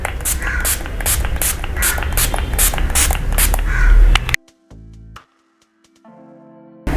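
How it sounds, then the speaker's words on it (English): Fixing spray is spritzed onto a face: a broad hiss of spray fills the first few seconds in one long, close burst, then cuts off to near silence with a few faint clicks. "I'm going to just spritz it all over my face"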